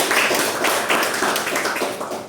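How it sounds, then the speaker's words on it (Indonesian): Indoor audience at a school in-house training session clapping to welcome a speaker, a dense, continuous burst of applause filling the room from start to finish. "kita sambut dengan tepuk tangan yang meriah pada beliau"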